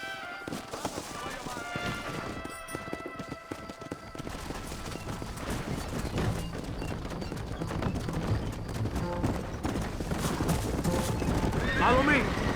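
Horse whinnies and hooves clip-clop in the Red Dead Redemption video game, with a rider's voice, Spanish-accented game chatter and occasional gunfire under a busy game-audio mix.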